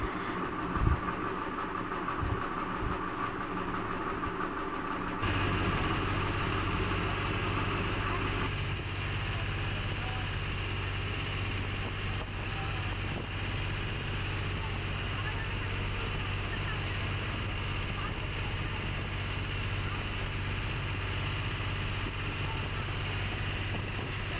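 A boat's engine drones steadily and loudly on a river crossing toward Umananda temple in Guwahati, a constant low hum with no breaks throughout.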